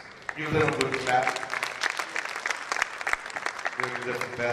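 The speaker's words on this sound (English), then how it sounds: "Sri, give them a good clap" An audience claps steadily for several seconds at a certificate presentation at a yoga centre celebration in Dubai, a dense patter of applause with voices mixed in underneath.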